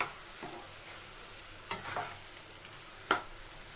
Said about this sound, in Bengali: এই আলুর যে পুরটা তৈরি করেছি সেটা আমি এখন এই তেলে দিয়ে দিচ্ছি